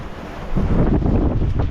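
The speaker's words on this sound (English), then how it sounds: "We have finally got some awesome wind today, and we're getting to sail." Strong wind, gusting around 16 to 22 knots, buffets the microphone aboard a sailboat crossing open water in the Exumas, a loud rushing roar that swells after a brief lull, mixed with water noise and no talk.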